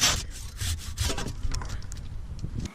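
A hand saw cuts through an apple tree branch during pruning, with steady rhythmic back-and-forth strokes, close and loud, with no talk.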